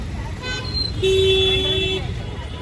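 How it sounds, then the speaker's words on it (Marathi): A car horn honks in one steady, sustained blast over the constant rumble of busy Sunday road traffic, with other vehicle noise close by. "संडे म्हणून ट्रॅफिक बघा, गर्दी बघा कसली फार आहे"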